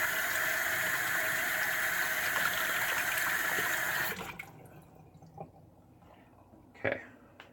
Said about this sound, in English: Just going to soak it in some water real quick.